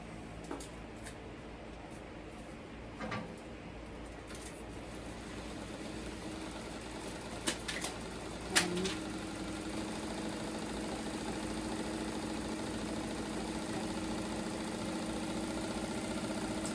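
A self-winding home sewing machine running, its steady motor hum and whir going on evenly with a few light clicks.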